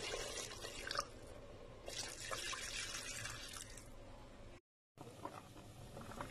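Broth pours into a pot of artichoke dolma in a home kitchen, a steady splashing, running flow that pauses briefly and then resumes for a few more seconds, with no speech.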